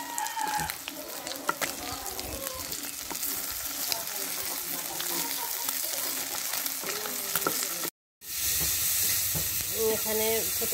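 Small fish with new potatoes, onion and chili frying in a pan in a home kitchen, a steady loud sizzle with stirring scrapes, a brief cut near the end, and a voice talking over it.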